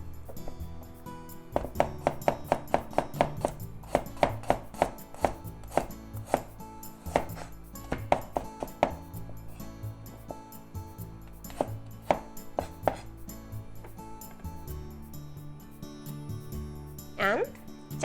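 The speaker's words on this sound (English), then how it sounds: "Back to the cutting. Garlic into thin slices." A knife chops garlic into thin slices on a cutting board, a rapid run of crisp, close taps in bursts with short pauses, while a person talks over part of it.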